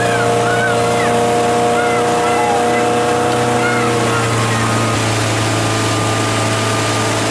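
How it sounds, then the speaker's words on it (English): A motorboat engine drones steadily and loudly throughout while towing a waterskier, with a constant low hum, faint higher whining tones and some water noise, and people speaking now and then over it. "The motor's going, yeah."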